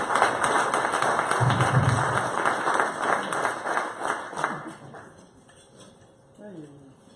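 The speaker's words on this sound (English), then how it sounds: "one more round of applause for our airmen and thank them for their defense of our nation" An audience at a Las Vegas Rotary Club meeting breaks into a steady burst of clapping that carries for several seconds, then thins out and fades into a quieter room.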